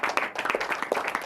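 Close, brisk clapping from a small seminar audience on disability law, individual hand claps clearly separated in a quick uneven rhythm, loud and without speech.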